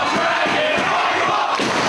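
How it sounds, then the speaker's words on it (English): A pro wrestling crowd at a 2007 ROH caged match roars and cheers loudly and without a break, a dense wall of voices filling the whole moment. "And the crowd getting behind the American Dragon here."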